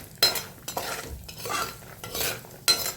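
Onion poha being stirred and fried in a pan: repeated close scraping sweeps of a spoon against the pan come in uneven bursts over a soft sizzle, with no talking.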